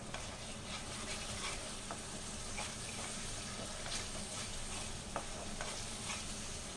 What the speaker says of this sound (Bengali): দিয়ে ভালো করে আমি মশলাটাকে কষিয়ে নেব।